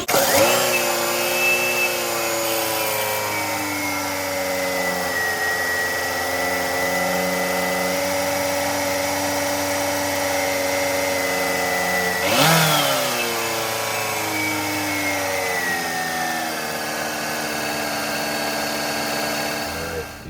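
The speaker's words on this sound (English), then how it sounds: "We're gonna see what kind of AC voltage we get with the engine running" A car engine runs steadily throughout, holding a constant hum with strong harmonics and a brief surge partway through. No voices are present.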